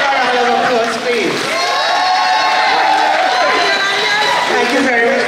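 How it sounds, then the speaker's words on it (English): Crowd cheering and applauding at a steel orchestra's 25th anniversary concert, a loud, steady wash of claps, whoops and shouts filling the whole stretch with voices mixed in. "Give a round of applause, please."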